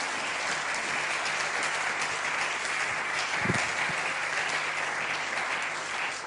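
A church congregation applauding to acclaim the Lord, sustained loud clapping from many hands filling the room for several seconds, with a brief low thump partway through.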